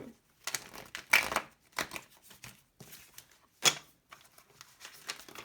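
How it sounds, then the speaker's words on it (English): Tarot cards being shuffled by hand, a series of dry papery riffles and flicks in short bursts, close and fairly quiet with pauses between, no talking. "One last shuffle, please."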